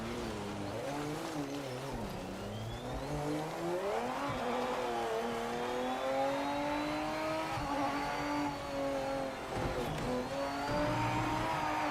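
A race car engine from the video game Project Motor Racing, a Lister Storm, revs and shifts continuously for about twelve seconds, its tone climbing and dropping through gear changes with occasional tire squeal, loud and alone.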